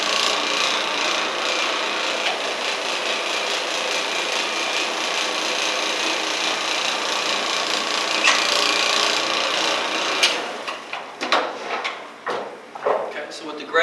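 Trinity carpet cleaning machine scrubbing restaurant carpet with a pad, a loud continuous grinding whir for about ten seconds that stops into clattering handling noises, with people talking over it.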